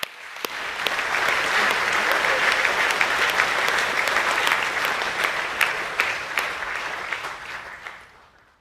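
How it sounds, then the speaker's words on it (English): A round of applause at a school co-curricular awards assembly, dense and sustained clapping from a large audience with a few sharp individual claps, fading out at the end. "Round of applause, please"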